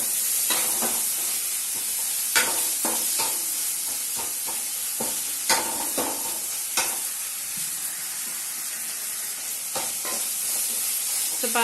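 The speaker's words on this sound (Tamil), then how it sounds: "இப்போ வந்து இஞ்சி பூண்டு பேஸ்ட் போட்டுக்கலாம்" Ginger garlic paste fries in a pan for a chicken curry, a continuous close sizzle broken by regular scraping stirs of a utensil against the pan.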